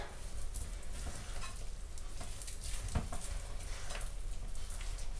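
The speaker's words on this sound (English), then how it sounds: "we mix in 3 tablespoons of snipped chives, 150 grams, 5 ounces of sliced ham. Mix all that together." Chives and sliced ham being mixed together for a ham soufflé give a steady, close scraping and stirring texture, with a few soft clicks and no talking.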